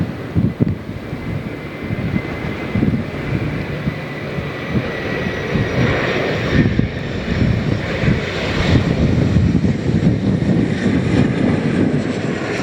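A turbojet airliner lands at Lihue airport in Hawaii, its loud, steady engine roar sustained throughout with a broad, rushing wash of noise and no voices.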